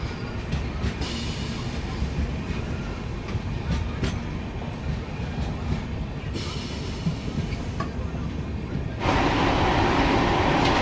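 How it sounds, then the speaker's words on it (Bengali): Tamralipta Express pulling out of Kanthi station, a steady close rumble of rail cars with clickety-clack and faint wheel squeal, growing louder and brighter toward the end. "ট্রেন ছেড়ে বেরোচ্ছে কাঁথি স্টেশন"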